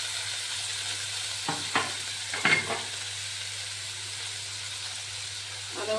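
Onion paste and browned onions sizzle steadily in a pan while being stirred for a spicy tangra fish curry, with a few sharp scraping stir strokes standing out over the constant frying hiss.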